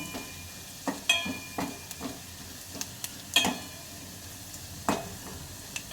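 Seasoning for Rayalaseema-style rasam fries in a pan, giving a quiet steady sizzle broken by several sharp spattering pops and the clink of stirring, with no talk.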